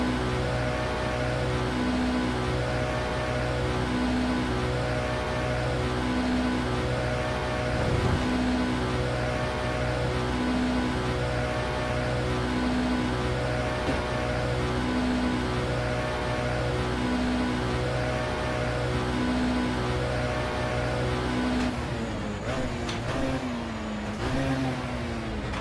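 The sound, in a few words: Lotus race car engine in historic Le Mans racing video game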